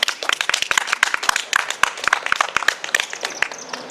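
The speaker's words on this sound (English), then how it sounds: "Don't need to keep applauding." Audience at a monthly poetry reading in Amesbury clapping, a lively burst of many quick, close hand claps that stays fairly steady throughout.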